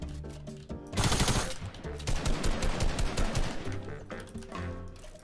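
Rapid submachine gun fire in the video game Fortnite, loud continuous bursts lasting several seconds with sharp, dense shot rhythm and a short lull before the firing resumes.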